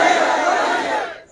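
Large crowd at a religious gathering shouting a slogan in unison, a loud, close roar of many voices that holds for about a second and then fades away.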